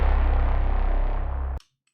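Music processed through the Outputs Thermal effects plugin, a dense, loud, distorted wash that plays steadily and then cuts off abruptly near the end, leaving near silence.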